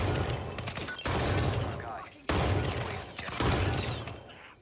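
Sawed-off shotgun gunfire in the video game Hitman 3, a few heavy close blasts with decaying tails, spaced about a second apart, with a voice talking over them.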